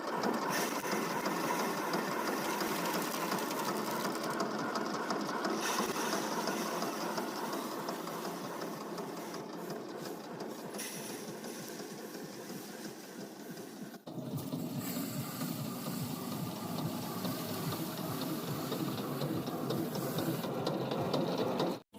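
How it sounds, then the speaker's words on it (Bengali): A paddy threshing machine threshes rice on a village farm, giving a steady, close mechanical whirring and rattling that runs throughout, with a brief dip and restart midway. "এখন করে একটু তাড়াতাড়ি ঝাড়ার জন্যই মেশিনে ঝাড়া হচ্ছে"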